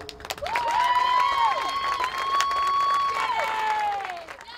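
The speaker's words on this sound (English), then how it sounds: "how about one more round of applause for our 5 seniors" Steady applause and some cheering from a crowd at a softball senior day, lasting several seconds at fairly close range, with a voice speaking over it.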